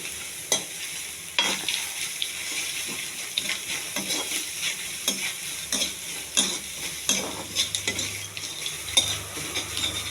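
Cumin seeds, chana dal, tomato and green chillies frying in a pan, with a continuous sizzle and frequent sharp spatula scrapes and clinks against the metal.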